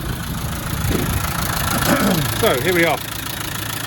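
A military-reconditioned 300Tdi diesel engine in a Land Rover Defender 90 Wolf soft top idles with a steady, low rumble throughout, while someone speaks briefly over it.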